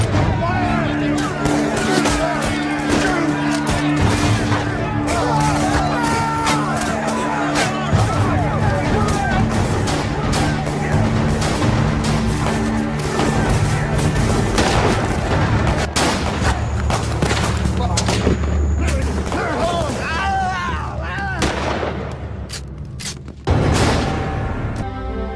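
Gunfire volley as armed men fire on striking Carnegie Steel workers, a loud, continuous crackle of dense overlapping shots and booms filling the scene, with shouting and crowd babble mixed throughout.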